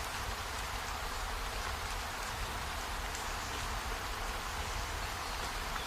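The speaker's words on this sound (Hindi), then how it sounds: "ऊपर से बारिश भी हो रहा है।" Steady rain falling as a sound effect for a narrated Hindi horror story, an even, dense patter of drops on surfaces that holds constant throughout with no talk.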